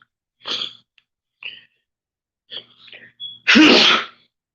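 Several small allergy sniffs and catches of breath build up to one loud, close sneeze near the end.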